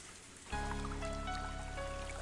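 Rain falling as a sound effect in the Higurashi visual novel game, a steady wash of patter starting abruptly after a short quiet moment and continuing evenly.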